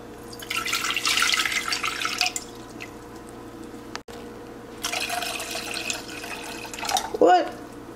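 Boiling water poured for an instant snack: two long splashing pours separated by a short pause, close and fairly clear, with a brief clunk near the end.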